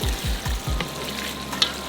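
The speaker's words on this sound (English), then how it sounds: "you can hear the sound of the onion starting to sizzle instead of just sweat" Onions sizzling in a pan as they caramelize for onion butter, a steady close crackling fry with bubbling texture, preceded by a few low thumps, with no talking.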